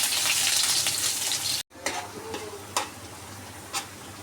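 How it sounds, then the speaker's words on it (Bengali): Round-sliced garlic frying in oil, a steady close sizzle that breaks off briefly, then resumes more quietly with a few sharp crackles and stirring clicks. "তো রসুন কিন্তু একদম এভাবে ভেজে নিতে হবে কালার করে"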